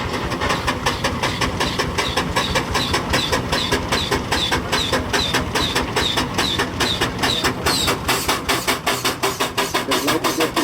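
Vintage tractor engine running at higher revs during a tractor pull and machinery rally, a loud, steady, rapid thumping beat close by that keeps an even rhythm throughout.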